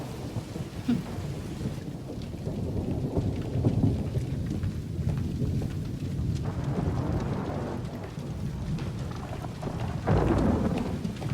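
Heavy rain pours steadily through a stormy night in a city, with deep rolls of thunder rumbling beneath the downpour and swelling again near the end, no voices present.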